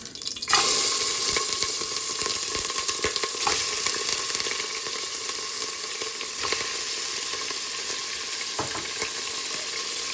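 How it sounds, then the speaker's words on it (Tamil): Chicken hitting hot sesame oil with curry leaves, a sudden burst of sizzling that settles into a steady loud fry with stirring scrapes throughout. "இங்கே நம்ம கழுவி வச்சுருக்க சிக்கனை உள்ளே சேர்த்துருங்க"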